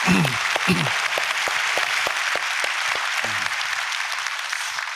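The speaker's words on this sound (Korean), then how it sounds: "큰 박수 한번 주시죠" A church congregation applauds during an anniversary thanksgiving service, with steady, dense clapping running throughout, with some low vocal sounds and voices mixed in near the start.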